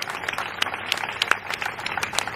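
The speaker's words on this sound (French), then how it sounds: "Applaudissez les militants" Scattered, sparse clapping from an audience at a political gathering of activists in Châteaudun, sharp individual claps ringing out unevenly and fairly close.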